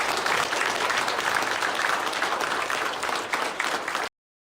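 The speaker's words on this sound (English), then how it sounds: "let's give him a round of applause." A crowd applauds steadily, dense clapping at full volume for about four seconds, then cuts off abruptly.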